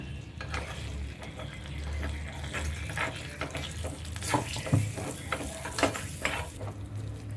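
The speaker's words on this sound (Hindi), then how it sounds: "घी पिघल गया, मैं 1 चम्मच मसाला इसमें डाल रही हूँ।" Spices crackle and sizzle in hot ghee in a pan, with occasional stirring scrapes and small pops throughout.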